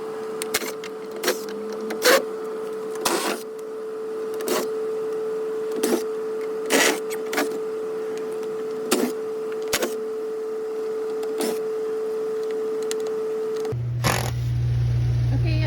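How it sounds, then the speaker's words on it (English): Screws being backed out of a spa's access panel with a power driver: a steady motor whine runs throughout, broken by sharp periodic clicks and scrapes, ending with a rougher, louder mechanical noise. Nobody speaks. "now we're just removing the screws from the panel here"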